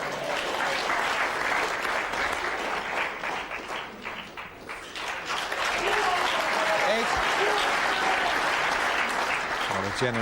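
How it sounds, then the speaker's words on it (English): Snooker crowd at the 1998 World Championship applauds a positional shot in the Stephen Hendry versus Jimmy White match, sustained steady clapping throughout with a commentator's voice talking over it. "Generous round of applause for the positional side of the shot"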